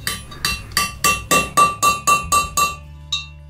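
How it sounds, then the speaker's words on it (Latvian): A hammer drives a new valve stem seal onto an engine valve through a 10 mm socket. Nine evenly spaced, close, sharp strikes ring out with a metallic ping, followed by a faint final tap. "Sitam līdz metāliskai skaņai tāda"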